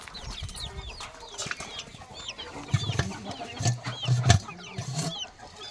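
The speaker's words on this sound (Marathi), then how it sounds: "इथे सुद्धा काही कोंबड्या आहेत." Desi chickens on a village farm clucking and calling in steady, overlapping bursts, with a few louder close clucks near the end and fainter bird chatter around them.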